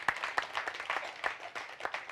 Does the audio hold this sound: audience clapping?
yes